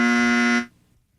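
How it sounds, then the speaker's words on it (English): Loud harsh buzzer for a wrong answer on a radio call-in quiz show, a single sustained tone lasting about half a second before cutting off abruptly into near silence. "You just want to give me a buzzer."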